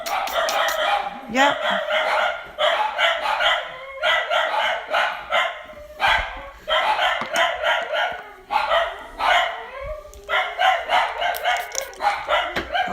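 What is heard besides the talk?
dogs barking at a visitor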